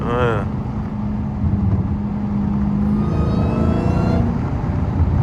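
A Dodge Hellcat engine revs loudly up close in traffic, with a steady low rumble that climbs in pitch as it accelerates, while a voice talks over it.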